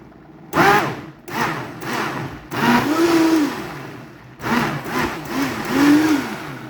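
Kitchen blender chopping kale leaves and stalks, switched on in short pulses: several separate motor bursts that rise and fall in pitch, loud and close, with pauses between.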